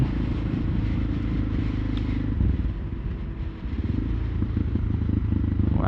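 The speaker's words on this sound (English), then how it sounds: "this exhaust does sound really good though. Deep, resonant, dirt bikey type sound" A Suzuki DR650 dual-sport motorcycle exhaust rumbles with a deep, throbbing note, steady and close, dipping briefly midway before pulling again.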